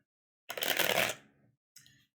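Tarot cards shuffled by hand in a quick, loud riffling burst, then a softer trailing shuffle and a short second flutter after a pause, with no voices.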